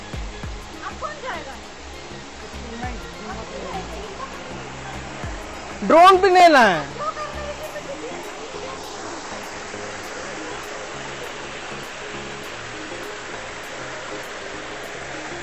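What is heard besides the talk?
waterfall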